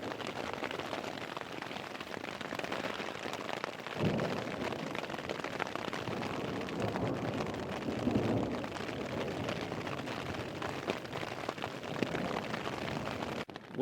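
Rain and hail pelting a tent during a mountain storm in Caribou Targhee National Forest, a dense, continuous roaring patter close by and steady throughout with brief louder swells.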